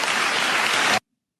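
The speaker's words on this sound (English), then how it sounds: "Applause." Studio audience applause on a live talk show, dense and steady for about a second before cutting off abruptly into silence.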